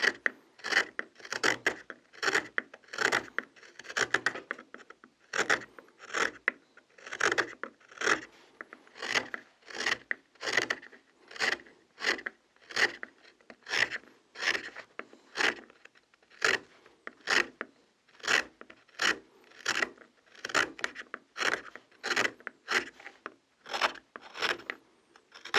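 A knife shaves a block of camphor wood into a spoon in a steady series of short, scraping rasping strokes, close and fairly quiet, repeating at a regular pace with no voices.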